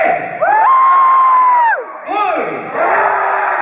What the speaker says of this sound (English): I want you to cheer when I say red and blue